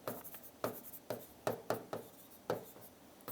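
Someone writes on a board during a chemistry lesson, producing repeated scratchy strokes and taps in an irregular rhythm, close and fairly quiet, with no talking over them.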